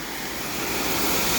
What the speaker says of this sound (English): now we're just splashing it off